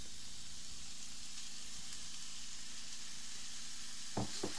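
Ground beef cooking with onions in a pan, giving a steady close sizzle and hiss of frying throughout, with a couple of brief scraping stirs near the end.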